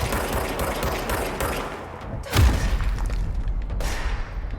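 Gunfire in the video game Control rattles in dense bursts over a busy background, with a heavy thump partway through. Scattered crackling sounds of the environment being destroyed follow it.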